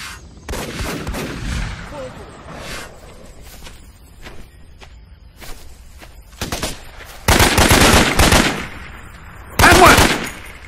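Enemy gunfire in the jungle shooter Raven Squad: Operation Hidden Dagger, with scattered shots and short bursts early, then two loud, sustained machine-gun bursts near the end, close and harsh.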